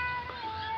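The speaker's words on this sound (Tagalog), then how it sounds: "Yan ang pusa kong alaga." A pet cat gives a short meow outdoors near another large visiting cat, close and fairly clear over a steady background hum with tonal whine.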